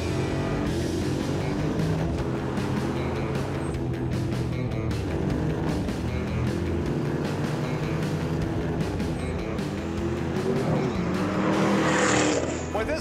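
A car drives fast on a closed track, its engine roaring loud and continuous close by, rising in pitch near the end, with faint tire noise and no talk.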